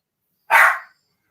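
A single sharp, loud puppy bark rings out close by, brief and alone against silence.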